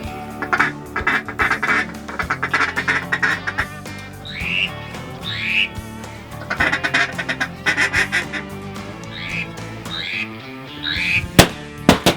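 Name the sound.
mallard duck quacking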